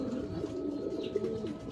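Pigeons cooing close by in a loft, soft repeated low throaty coos layered over one another with faint background noise and no talk.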